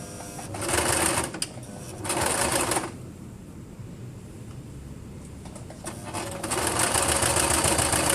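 Sewing machine stitching a flowy dress fabric, running in fast bursts near the start and again steadily toward the end, with a quiet stretch between where the machine stops.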